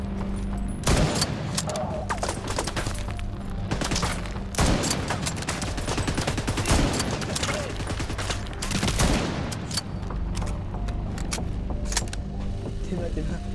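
Dense gunfire from The Division 2 video game rattles in continuous bursts for the whole stretch, loud and busy, with a voice heard underneath at times.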